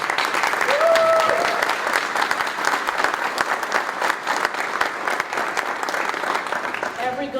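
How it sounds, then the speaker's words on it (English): Crowd applause at a school ribbon cutting ceremony for a new middle school in Deltona, Volusia County, sustained dense clapping from a large audience, loud and steady throughout, with a brief whistle or cheer early on and voices mixed in. "Let's give you a round of applause."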